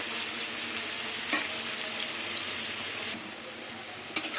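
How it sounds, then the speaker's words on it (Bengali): Jackfruit fries in hot oil with a steady, dense sizzle, broken near the end by a sharp clink of a utensil. "এবার লাল লাল করে এঁচড়টা ভেজে নেব"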